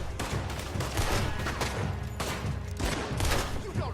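Rapid volleys of gunfire in Red Dead Redemption 2 during a fight with Lemoyne Raiders crack repeatedly in dense bursts, loud and close, with a voice briefly mixed in.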